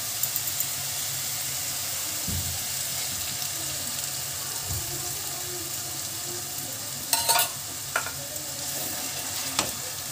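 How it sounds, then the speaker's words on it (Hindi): Curry leaves and tomato going into hot oil for besan sabji: a steady close sizzle and frying hiss with a few soft stirring clunks and brief sharper spatters, no talk. "और इसमें हम कड़ी पत्ता ये लिया है, कड़ी पत्ता डाल देते हैं"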